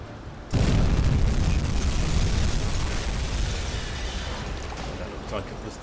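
A torpedo strikes a ship in the submarine game UBOAT during an Arctic convoy attack, a sudden heavy boom that swells into a long rumbling roar slowly fading, with a voice speaking over it.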